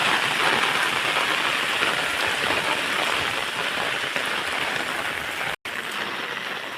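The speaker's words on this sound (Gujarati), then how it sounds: "ફૂલે ફૂલ વરસાદ" Heavy monsoon rain pours down steadily in a village street, a dense and continuous roar of drops drumming on surfaces, with one brief dropout near the end.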